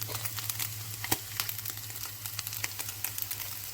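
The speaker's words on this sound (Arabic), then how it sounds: "بديها تشويحه كده" Chicken sautéing with spices in a pan gives a quiet, steady sizzle dotted with small crackles and light utensil taps, close and continuous over a low hum.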